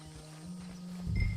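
A horse in Red Dead Redemption, soft clip-clop hoof steps with a low snort, close and brief, with no talking.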